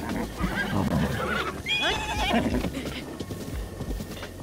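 A horse neighs in Zelda: Breath of the Wild, a clear whinny rising over game ambience and hoof clip-clops, near and fairly loud, with no talk.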